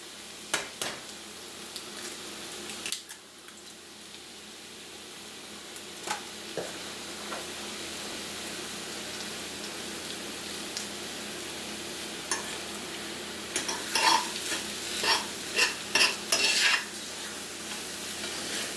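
Poke greens with a cracked egg frying in a pan, a steady close sizzle running throughout with sharp utensil clicks and scrapes, busier toward the end.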